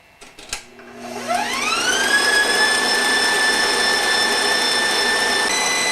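Electric stand mixer beating wedding cake frosting on high speed, a steady loud whine that ramps up in pitch after a few thumps at the start, then holds a continuous high-pitched motor drone.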